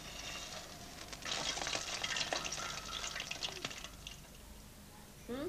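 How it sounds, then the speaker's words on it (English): Gulab jamun deep frying in oil, a bubbling sizzle with stirring and spoon scrapes over it, rising and falling in loudness with a few sharp knocks. "Gulab jamun, as it is called, is then deep fried."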